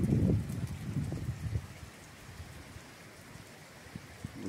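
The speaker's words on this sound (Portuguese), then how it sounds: "A chuva tá fraca agora." Light rain falling steadily during a cyclone in Santa Catarina, Brazil, with a gusty rumble of wind at the start that fades to a soft, even patter.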